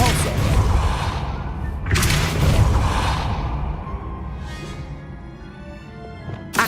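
Repeated Depulso spell casts in the video game Hogwarts Legacy, with a burst of whooshing and thudding impacts near the start and another around two seconds, fading into a softer magical hum before a sharp final hit.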